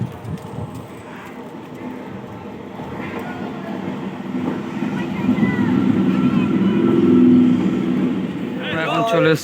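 Rumbling ride aboard a passenger train on the main line, a steady low roar of wheels and carriage noise that swells toward the end, with voices talking over it.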